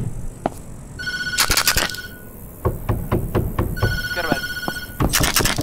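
Telephone ringing in the horror video game Tattletail, repeated bursts of bright electronic trills separated by knocks and thumps, loud and close, with a person speaking briefly over it.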